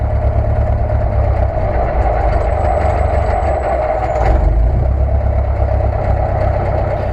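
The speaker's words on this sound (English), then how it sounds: "Every time I pull the throttle back to idle, you can see that the engine just wants to quit." A Luscombe 8A light airplane engine idles in cold weather, a steady, rough low-pitched drone heard up close and continuous throughout, with no talking.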